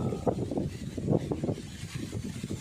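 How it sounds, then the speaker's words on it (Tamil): Strong wind gusts across a rice field with heads just emerging, a continuous roar of wind noise buffeting the microphone with rustling surges, loud and close, with no talk. "காற்று வீசுது. என்ன வேகம் அடிக்குது பாருங்கள்"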